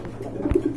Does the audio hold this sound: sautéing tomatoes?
no